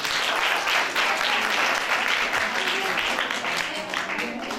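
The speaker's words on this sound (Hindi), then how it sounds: "इनके लिए एक बार जोरदार तालियां बजाएं।" A crowd claps loudly for Sunday school children after their tableau at a Christmas church program in Lahore, with dense, sustained applause filling the whole stretch.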